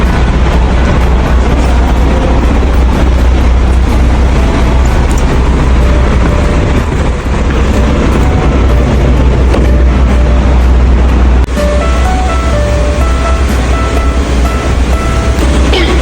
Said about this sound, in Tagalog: Papaandar natin ngayon yung sakyan.